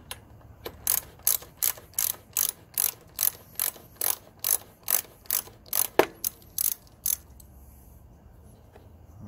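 A ratchet wrench loosening bolts on a Murray lawn tractor, clicking in a rapid, regular series of about sixteen close, crisp ratchet strokes, then stopping, with no speech.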